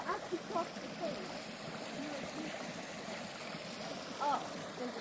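A creek flows in a faint, steady wash outdoors, with brief higher water sounds near the start and around the four-second mark and no voices.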